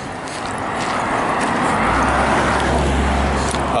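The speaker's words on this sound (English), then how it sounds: "more cars than I thought today" On a January nature walk, a car passes close on the road, a broad tire-and-engine hiss that swells to a loud, steady rumble over the last couple of seconds.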